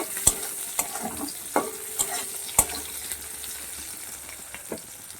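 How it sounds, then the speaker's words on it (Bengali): Onions frying in oil are stirred in a pan, with sharp intermittent clanks and scrapes of the spoon over a faint sizzle. "পেঁয়াজ দিয়ে দিচ্ছি পেঁয়াজটাকে হালকা তিরিশ থেকে মতো একটু নেড়ে ফেলে নেব"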